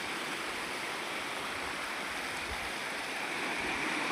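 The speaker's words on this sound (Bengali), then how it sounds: "এই যে একদম ঝর্ণার পাহাড়" A waterfall on a hillside in Assam rushes in a continuous, even wash of water noise, moderately distant and with no voices over it.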